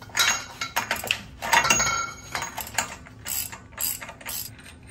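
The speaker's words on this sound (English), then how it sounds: "grab your cheetah bar, pop this thing loose" A breaker bar works loose a CV axle nut on a car with smoked CV axles, a flathead screwdriver wedged in the brake rotor to hold it. Close, irregular metallic clanks and scraping bursts follow one another for several seconds, with no talking.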